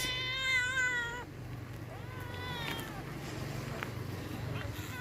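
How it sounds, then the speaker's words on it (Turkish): A cat gives a loud, drawn-out meow close by, followed by a couple of softer, shorter meows against quiet background noise. "Yeni kedimiz."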